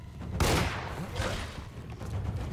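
Shotgun blast in Alone in the Dark, a single heavy boom followed by a rumbling decay, then a second softer burst amid dark ambient noise.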